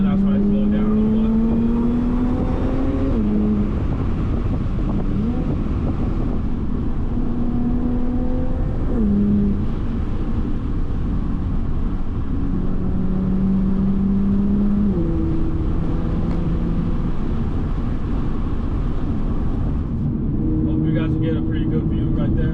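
Supercharged V6 car engine on a twisting road drive, droning steadily and loud throughout with repeated rising revs and gear-change dips, heard from inside the car; a voice talks over it.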